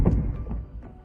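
A few dull thuds from striking a prefabricated house wall, one heavy knock at the start followed by softer blows spaced through the moment, close and low-pitched.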